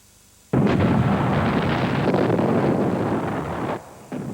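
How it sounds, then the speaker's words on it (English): A British artillery bombardment of German trenches and a village breaks in abruptly as a heavy, continuous roar of blasts. It holds loud for about three seconds, then drops back slightly while still rumbling. "The British bombardment took the Germans by surprise, but the artillery was inaccurate"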